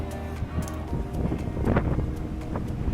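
Steady wind buffets the microphone on the open upper deck of the Independence of the Seas cruise ship at sea, a continuous loud rumbling gust with no speech.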